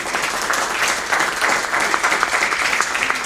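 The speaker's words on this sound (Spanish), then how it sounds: "Cántale un aplauso de alabanza al Padre." A church congregation claps in praise to God, a loud, continuous wash of many hands with a slightly pulsing rhythm, close and without talk over it.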